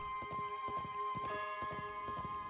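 A horse gallops in the video game Trails of Cold Steel 4, its hooves beating a fast, steady clip-clop rhythm over sustained background music tones.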